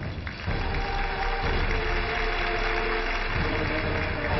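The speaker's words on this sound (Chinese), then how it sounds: "掌声请出这一对，掌声有请" A studio audience on a TV relationship show applauds as a couple is welcomed, a dense, steady wash of clapping that swells in after a brief quieter start and holds evenly.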